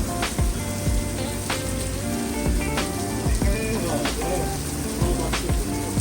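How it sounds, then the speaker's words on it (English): Heavy rain pours down steadily on a Sunday, a dense, continuous hiss with scattered louder drops and splashes, close and loud throughout with no pause. "It's pouring down."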